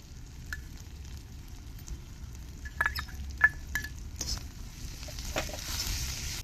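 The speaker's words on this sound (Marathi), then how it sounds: "आता आपण हा लसूण घालूया" Garlic goes into a frying pan of hot oil for Khandeshi brinjal bharit, a faint sizzle and quiet stirring with a few clinks of a spoon against the pan.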